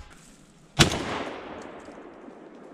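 One outdoor gunshot, a single sharp crack at middle distance followed by a long fading rumble and echo.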